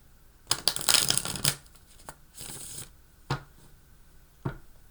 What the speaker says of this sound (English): your cards do not want to shuffle as well as the last couple people